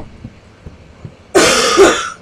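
A pet sick with pneumonia gives a harsh, raspy cough in two close bursts after a few quiet soft thumps, loud and near.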